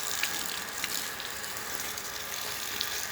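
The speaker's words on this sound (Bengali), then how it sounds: "সবগুলো গাছের গোড়ায় পানি দিয়ে দিলাম।" Water splashes steadily onto the soil at the base of garden plants, a soft continuous spattering with a few brief clicks, heard alone and moderately close.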